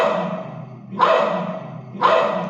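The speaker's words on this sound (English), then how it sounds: "Dog barks." A dog barks twice, about a second apart. Each bark is sharp and fairly close, and a low hum continues between them.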